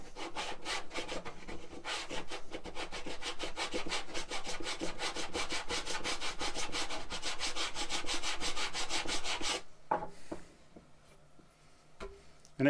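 Wood stock is sanded at a 75-degree angle in a miter sander jig with a sanding block, making a steady run of quick, rhythmic rubbing strokes for about ten seconds before it stops and a few light knocks follow.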